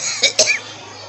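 A small cough, apparently from an infant: two short, soft bursts close together, with a faint wheezy tail and quiet background.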